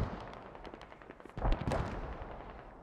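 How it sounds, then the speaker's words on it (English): Gunfire in the video game Squad, rapid bursts of automatic shooting that swell in the middle, with distant shots continuing around them and no talk. "I'm hearing a lot of shooting from here."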